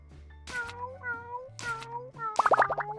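A robot cat in the video game Galaxy Burger meows several times, with short synthetic-sounding meows spaced out over a soft musical background and a quick burst of bubbly notes near the end.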